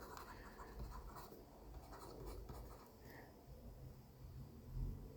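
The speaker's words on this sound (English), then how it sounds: "I'm just going to write down the schedule" A pen writes out an accounting schedule on paper, giving a faint, steady scratching that continues quietly throughout.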